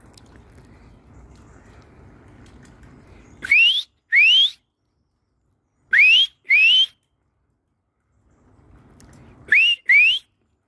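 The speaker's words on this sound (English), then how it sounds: "I'm just going to give him a whistle and see if he'll come down." A person gives three pairs of sharp rising whistles outdoors to call a robin, each pair a quick double note separated by long quiet gaps, loud and close.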